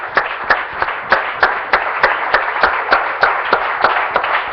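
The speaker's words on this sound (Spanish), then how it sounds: "Dele un aplauso al Señor, hermano." A church congregation claps in steady rhythmic unison during a sermon, loud and close with evenly spaced beats throughout.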